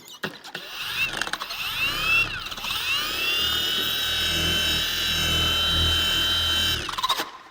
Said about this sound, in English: To polish those marks out, we're going to use the DIY system, their balanced polisher with the battery in the middle here